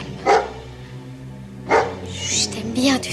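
A dog barks twice in sharp single bursts about a second and a half apart, then whines and yips, with a person's voice speaking over and between the barks.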